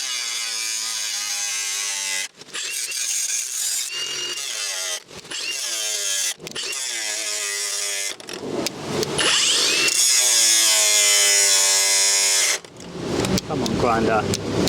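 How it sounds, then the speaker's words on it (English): An angle grinder is pressed to the frame of a Honda SS50 motorcycle, whining loudly in repeated bursts that cut out and restart, with someone speaking between attempts. "Come on, grinder."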